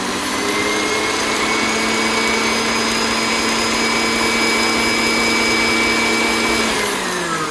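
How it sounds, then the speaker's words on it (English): A steady, loud electric whisk whirs without pause as food colouring is mixed into macaron batter, its motor pitch holding even and then dropping slightly as it slows near the end. "And now whisk it in."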